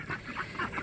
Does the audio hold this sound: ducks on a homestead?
yes